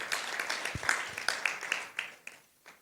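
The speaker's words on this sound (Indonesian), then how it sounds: "Tepuk tangan buat Tuhan kita." Scattered, thin clapping from a church congregation praising God, a few hands beating unevenly over a couple of seconds and tapering off, fairly quiet and close with room echo.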